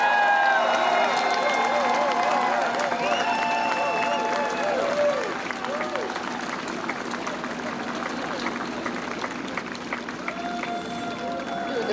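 A rally crowd applauds and cheers in a continuous, fairly loud wash of clapping. Whistles and raised voices come through near the start, then the noise settles into steadier clapping.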